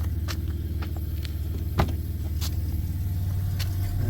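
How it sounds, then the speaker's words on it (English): Car engine idling steadily on a cold morning around 12 to 26 degrees, a low continuous rumble with a few faint clicks and taps nearby, no speech. "I started the car up, let it warm up a little bit because it's cold"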